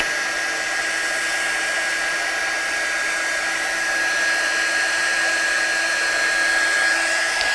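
A heat gun blows steadily to melt embossing powder on a Christmas stamped card, a constant loud airy whoosh with a fixed whine running unbroken throughout, without voices.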